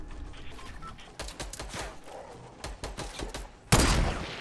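Gunfire in the video game Fortnite, a fast rattling burst of shots with quick sharp cracks, ending in one louder blast near the end, with keyboard-like clicking around it.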